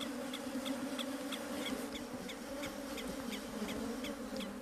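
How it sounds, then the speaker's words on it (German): A dense swarm of Africanized killer bees on the attack, a loud, steady buzzing drone with many wingbeats layered together and close by, continuous and without any voices. "Die Bienen greifen bevorzugt dunkle Stellen an, wie Augen, Ohren oder Mund."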